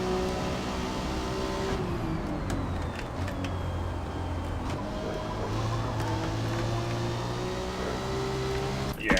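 Ferrari F50 engine in a racing video game, a steady sustained drone with tonal hum and rising pitch sweeps, loud and continuous with no talking.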